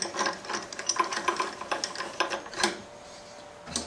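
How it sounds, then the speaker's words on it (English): A 4-flute 5mm carbide bullnose end mill plunging into holes on a milling machine gives a busy series of close clicking, grinding cuts that stop near the end, followed by one brief final burst. "We're going to use a end mill and plunge into these holes."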